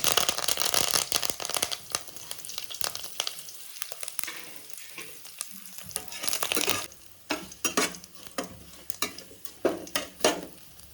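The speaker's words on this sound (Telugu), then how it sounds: "అవి కొద్దిగా దోరగా వేగిన తర్వాత ఇప్పుడు కరివేపాకు వేసుకోవాలి" Dried red chillies and curry leaves sizzle and crackle in hot oil in a home kitchen, a steady fry broken by sharp spatters and stirring scrapes that grow more frequent toward the end, with no talk.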